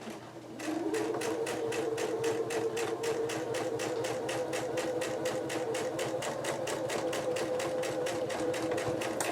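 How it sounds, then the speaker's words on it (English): A domestic sewing machine piecing quilt fabric runs at its highest stitching speed, a fast, even mechanical chatter of needle strokes with a steady motor whine, close and continuous after a short start, no talking. "I have my stitching speed all the way up to as high as it goes. When I'm piecing like this, you can sew at a higher speed."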